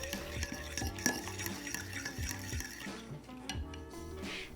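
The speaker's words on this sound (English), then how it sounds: "mix them together until you have a thick, sticky dough" Vegan oatmeal chocolate chip cookie dough being stirred in a bowl, a spoon scraping and clinking against the sides in an uneven rhythm over soft background music, no talking.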